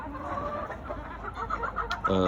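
Large fowl Mottled Chocolate Houdan chickens cluck in a close, steady run of short calls that ends in a louder burst.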